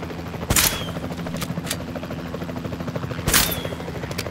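Two sharp gunshot bursts from a vehicle-mounted gun in Jurassic World Evolution 2, spaced about three seconds apart over a steady engine-like hum.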